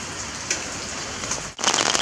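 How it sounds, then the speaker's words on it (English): Steady rain falls outdoors on a dark, wet day, a dense close hiss of drops that briefly drops away and then returns louder. "It's been raining all day long."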